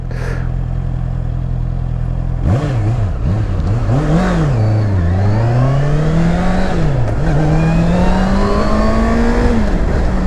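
Stock-exhaust Honda CBR 650 R four-cylinder motorcycle, a 2020 model, revs loudly and close, its engine note climbing and dipping through several throttle blips before holding a sustained high wail, with no talking over it.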